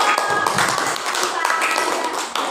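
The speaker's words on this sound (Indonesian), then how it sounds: "Tepuk tangan untuk kelompok" A classroom group is applauded by the other students, a dense, lively burst of many hands clapping close by that runs the whole way through and fades slightly at the end.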